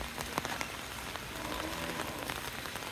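Steady rain patters on a surface, a dense, even hiss with scattered louder drops.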